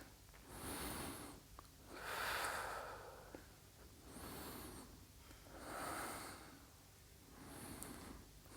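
Slow, deep yoga breathing during a seated twist: about five soft, airy inhales and exhales in an even rhythm, close to the microphone and quiet against a faint background.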